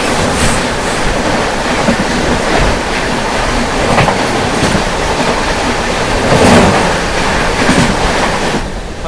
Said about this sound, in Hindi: सामने से आ रही है गोंडवाना सुपरफास्ट एक्सप्रेस।